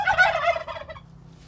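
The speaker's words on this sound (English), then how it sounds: "Isn't that right, turkeys?" Turkeys in a lockdown poultry pen under a tarpaulin give one loud, near gobble that trails off within about a second.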